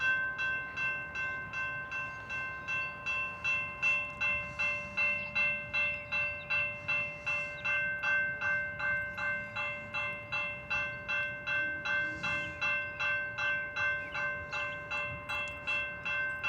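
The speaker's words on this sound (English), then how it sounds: "It's a freight train." A freight train rolls past Rhodes Ferry Park by the Tennessee River in Decatur, Alabama, with a steady rhythmic clatter of wheels over rail joints, and a sustained horn-like tone hangs over the passing cars.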